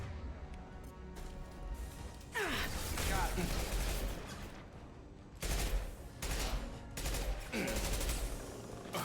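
Bursts of gunfire in Mass Effect Legendary Edition, loud volleys of shots in two main clusters amid game combat sounds, with occasional voice sounds from the player.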